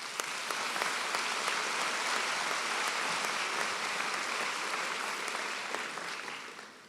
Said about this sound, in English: So maybe you'd join me in applauding them as well.